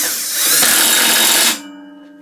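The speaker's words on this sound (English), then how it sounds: "Sorry, 22mm socket impact." An impact wrench fitted with a 22mm socket whirs loudly and close for about a second and a half, then cuts off, leaving a brief metallic ring on a Hayter mower with a worn blade brake.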